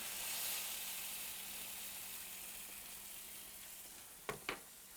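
Walleye fillets fry in butter in a skillet outdoors at a lake, giving a steady close hiss and sizzle, then two brief knocks near the end, with no one speaking.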